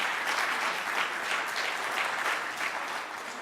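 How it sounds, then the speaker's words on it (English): An audience at an awards ceremony gives a jury member a warm welcome with a round of applause, a continuous even wash of clapping from a large crowd, steady and slightly distant. "So please give him a warm round of applause and welcome to this competition."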